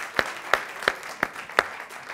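Studio audience on a French television talk show clapping in unison: five evenly spaced, sharp collective claps at a steady slow beat, close and distinct with a faint room wash between them.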